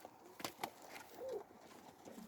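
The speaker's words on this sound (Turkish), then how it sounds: "Bakın güvercinlerimiz." Soft pigeon coos close by in a garden, a low warbling call heard a couple of times against quiet outdoor ambience, with a few brief knocks.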